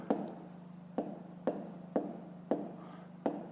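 Pen or pencil writing down a fifth-grade decimal math answer on paper, a series of about seven sharp scratchy strokes at a steady rhythm, close and fairly quiet, with a low steady hum underneath.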